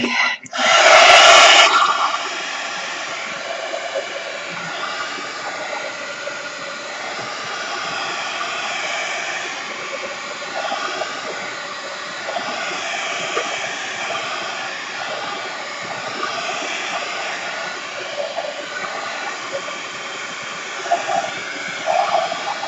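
A hair dryer blows on ink on a paper napkin, starting with a loud close blast and then settling into a steady rushing hiss that continues alone.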